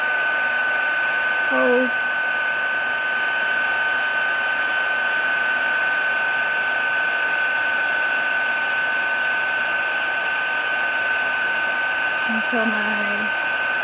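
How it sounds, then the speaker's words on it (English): A heat tool blows a steady, loud whirring hiss throughout, melting embossing powder for a card, with a few brief soft spoken words near the start and a faint clatter near the end. "So all I'm going to do is heat my heat tool off screen"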